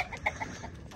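Hens and roosters on a farm, a few short clucks close by over steady low background noise, brief and fairly quiet.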